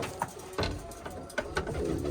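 Pigeons coo close by in a small coop, soft throaty calls repeating in short bursts.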